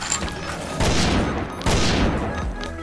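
Gunfire in the online shooter game XSHOT, two loud dense bursts of rapid shots in quick succession over a constant background din.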